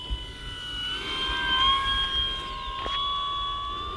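An E-Flite RC warbird model airplane flies past on partial throttle, its steady motor whine rising and shifting in pitch as it passes at a moderate distance, with no voices.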